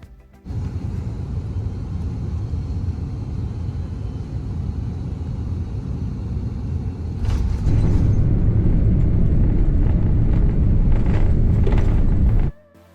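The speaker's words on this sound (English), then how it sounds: "we touch down ahead of schedule" Finnair wide-body airliner landing at Heathrow, heard from inside the cabin: a steady low engine and airframe rumble that jumps louder and rougher at touchdown and rolls on before cutting off abruptly.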